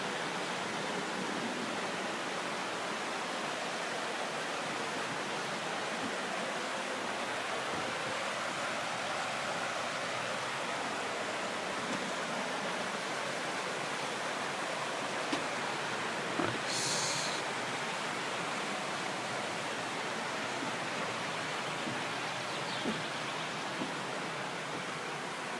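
Pistyll Rhaeadr waterfall in North Wales: a constant, full roar of falling water that stays steady and unbroken throughout, with only a brief faint high sound partway through.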